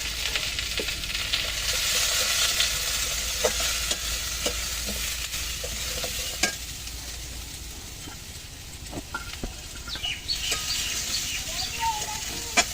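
Vegetable curry of kohlrabi and pumpkin greens fries in a pan with a soft, continuous sizzle, broken by intermittent scraping clicks of a spoon stirring against the metal, close and fairly quiet.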